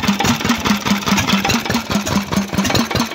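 Antique 2.5 horsepower stationary engine with a magneto ignition running at an even idle, a rhythmic chuffing pulse repeating about four times a second, close and clear with no talk.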